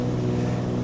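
Light aircraft piston engine drones steadily at reduced throttle during a climb, held at 35 inches manifold pressure and 2500 rpm, a continuous loud close hum with strong low harmonics.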